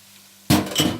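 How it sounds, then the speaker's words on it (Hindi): Chopped onions dropped into hot oil in a pan for Pakistani-style aloo palak, a sudden loud burst of sizzling after quiet, swelling again briefly, close and without talk. "लो जी, अभी हम इसमें प्याज डालेंगे।"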